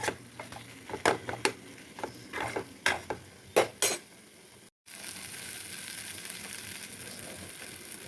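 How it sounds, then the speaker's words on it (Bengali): Whole cardamom, cinnamon and mace fry with ground spices in a pan: a run of sharp clatters and scrapes as they are stirred, a brief cut to silence, then a steady, quiet sizzle with no talk. "মশলা ভাজার সঙ্গে এটা মিক্স করে ভেজে নিতে হবে"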